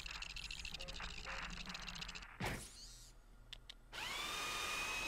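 A mining drill in the Ratchet and Clank video game, struggling against tough raritanium rock, whirs and rattles in a steady mechanical grind, broken by a sharp burst and then a bright sustained electronic whine, mixed with game background sounds.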